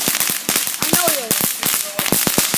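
Rapid crackling pops from a firecracker-type firework in a backyard on the Fourth of July, a dense irregular series of loud sharp bursts with a whistling tone mixed in.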